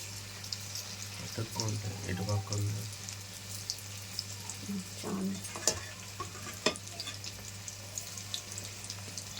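Paneer 65 pieces fry in hot oil with a soft, thin sizzle, broken by a few light clatters and stirring knocks, while a voice talks faintly in the background.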